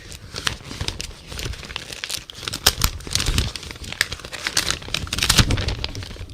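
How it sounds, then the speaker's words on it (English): Pages of paper that were wet and then dried, crinkling and crackling as they are handled and pulled apart, a close, continuous run of dry rustles and small snaps with no talking. "So you can hear how what the sound of wet dried paper sounds like."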